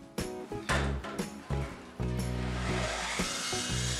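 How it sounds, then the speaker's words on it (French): A power saw cuts partition studs during a second-floor renovation, giving a few short buzzing cuts followed by one longer sustained run, close and loud with no talking. "en premier, la découpe de tous les montants"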